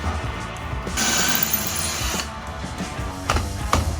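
A power drill whirs in a short burst and then winds down, with mechanical clicks and handling noise close by.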